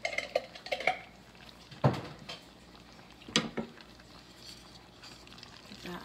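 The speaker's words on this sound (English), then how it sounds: "Give that a nice stir." Pasta with a heaping teaspoon of whole grain Dijon mustard is stirred in a pot, giving a few clanks and scrapes of the utensil against the metal over a low bubbling background.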